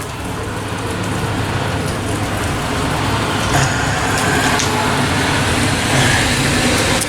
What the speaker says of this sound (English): there's a truck going by outside.